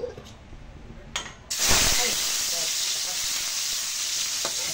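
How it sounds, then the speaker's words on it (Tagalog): Garlic hits hot oil in a pan for Filipino sinigang sa miso, bursting into a loud, steady sizzle after a quieter opening with a few clinks, then frying evenly and close up. "ating igisa natin bawang"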